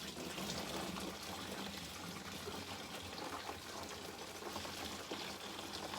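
Hot home-brew liquid for a chocolate orange porter pours steadily through a strainer hop cage, a continuous faint rushing trickle with no talk over it.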